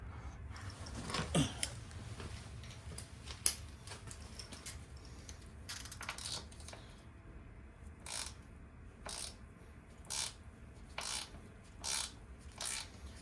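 A hand ratchet clicks in short bursts while loosening the rear shock bolts on a Royal Enfield Interceptor 650, with quiet pauses between strokes and a faint background hum.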